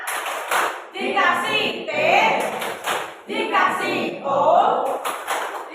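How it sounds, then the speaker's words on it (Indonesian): A room of teachers at a school workshop performs a patterned group clap, bursts of synchronized hand claps marking a spelled-out rhythm, alternating with a leader's chanted cues and the group's voices. "Tepuk top banget"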